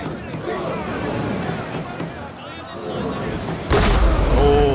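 Ship ramming during a naval battle in the video game Total War: Rome II, a sudden loud crashing impact arriving near the end, over continuous battle noise and crowd babble.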